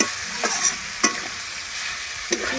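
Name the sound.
onions frying and being stirred in a pan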